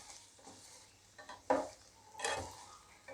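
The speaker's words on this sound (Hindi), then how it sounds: "ब्राउन तक होने तक फ्राई करना है।" Flower-shaped mathri frying in oil until golden brown, a low quiet bubbling with a couple of sharper stirs and clinks against the pan, close and faint.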